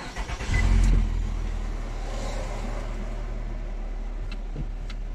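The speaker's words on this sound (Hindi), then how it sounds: "और गाड़ी स्टार्ट भी कर लेते हैं।" A 2017 Nissan Altima engine cranks and catches with a brief loud surge, then settles into a steady, even idle that continues close by without speech.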